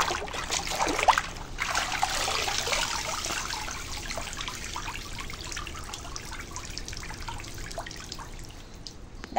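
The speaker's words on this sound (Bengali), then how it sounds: "এখন ভালো করে ধুয়ে নিচ্ছি।" Bottle gourd leaves are washed in water in a home kitchen, giving a soft continuous trickle with light dripping and splashing, a louder burst near the start, fading slightly toward the end, with no speech.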